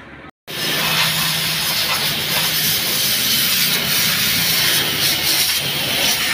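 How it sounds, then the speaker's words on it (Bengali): Loud steady hiss of chain cleaner spraying onto the chain of a TVS Apache RTR 160 motorcycle, close and continuous after a brief gap, with no talk. "চলুন এবার চেনটাকে ওয়াশ করি।"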